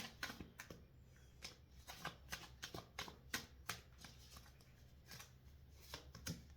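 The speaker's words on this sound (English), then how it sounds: "One more shuffle, see." Oracle cards are shuffled in quick bursts of riffling and flicking, a series of soft crisp snaps close by, fairly faint.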